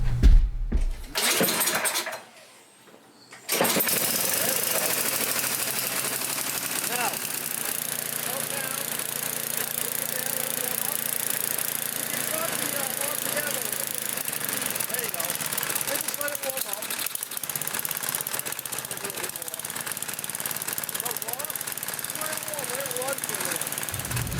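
A snowblower's small engine cranks with a couple of loud bursts, cuts out briefly, then catches and runs at a steady, rough, loud idle for the rest of the time, close by, with a voice speaking over it.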